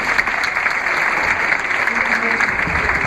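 Students clapping together in a classroom after an exercise, a dense, steady round of applause filling the room for the full stretch without letup.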